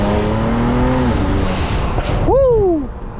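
BMW E92 335i with a DCT gearbox revving hard, its engine note climbing and then cutting off into a sharp blow off valve whoosh and flutter, loud and close inside the car.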